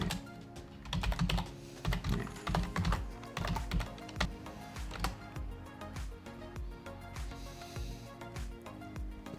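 Thai text is typed on a computer keyboard while a custom ChatGPT is set up, with quick, irregular keystrokes clattering up close at a soft level and no voices.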